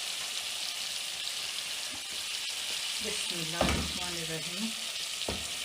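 Chicken pieces go into a hot pan for an aloo matar chicken salan, starting a steady sizzle and frying hiss that swells as they hit the oil, with a few stirring scrapes and a brief murmured phrase.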